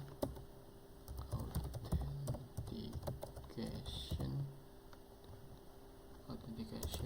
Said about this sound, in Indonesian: Sini kita mengetik perintah login